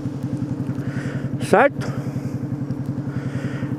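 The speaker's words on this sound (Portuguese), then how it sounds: "Tô em cima da moto" A motorcycle engine chugs in a steady, rapid pulsing rhythm while riding, with a short voice breaking in over it.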